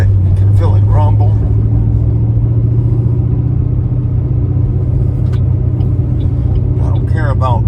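Close, loud low rumble from a 2007 Ford Mustang running with a freshly installed engine, holding steady for several seconds as someone speaks over the engine.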